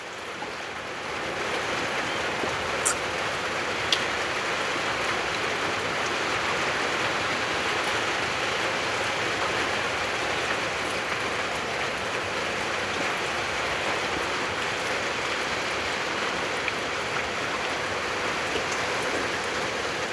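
Steady rain pours down in a continuous, even hiss, with a few sharper drips now and then and no talking.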